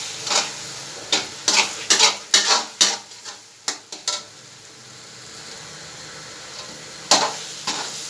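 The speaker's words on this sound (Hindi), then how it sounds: "अब हम इसको भूनेंगे अच्छी तरह से।" A spoon stirring and scraping semolina as it roasts in a pan for sabuni halwa, a run of sharp, close scraping strokes in quick bursts, a pause, then a few more strokes.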